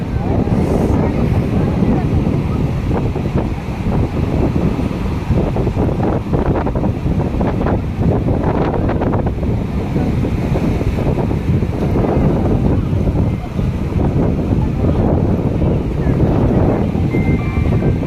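Sea waves roll onto a beach under strong wind, a loud continuous roar of surf and gusts buffeting the microphone, with voices talking over it.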